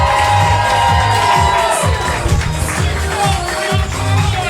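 A comedy club crowd at a roast battle in Hartford cheers, whoops and shouts loudly, a dense dense roar of voices with some clapping mixed in, sustained throughout without a break.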